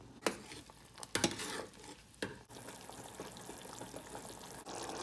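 Curry leaf kuzhambu simmering in a pot on the stove, a soft continuous bubbling and sizzle with occasional stirring scrapes and clinks, close and fairly quiet.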